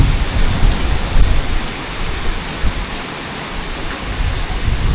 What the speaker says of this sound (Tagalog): O ngayon po ay malakas pa ang ulan sa labas.